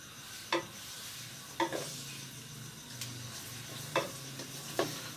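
Karahi chicken with garlic paste, onion and tomato sizzles steadily over a raised flame, with a few sharp spoon clicks against the wok spaced through the frying; close and moderately loud, no talking.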